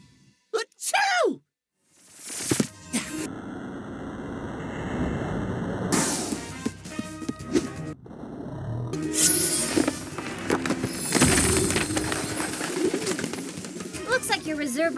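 Pigeons coo in the Miraculous Rise of the Sphinx game, a short burst of cooing near the start, then a long stretch of game music, effects and character talk over it.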